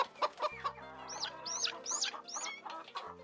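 Chickens clucking as they peck at feed, heard as a run of repeated high, rising calls over a steady low drone, fairly close and moderately loud.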